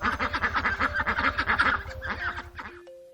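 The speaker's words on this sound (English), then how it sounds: "This is the sound that a duck makes." A duck quacking in a rapid run of loud, close, harsh nasal calls lasting about three seconds, then fading into a faint tone.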